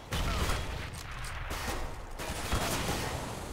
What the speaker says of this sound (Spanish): Le dispara a través del humo, desgraciado.